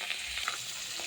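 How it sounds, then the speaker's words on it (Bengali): Hilsa fish pieces frying in hot oil, a faint, steady sizzle with light crackle heard alone at low level. "যেহেতু মাছ ভাজা হচ্ছে"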